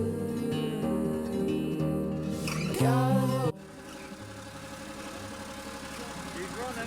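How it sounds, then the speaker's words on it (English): Engine of a mixer truck being built up, running after finally turning over, a steady low idle with a rougher burst midway, heard up close. "we finally got the engine turned over and she is running"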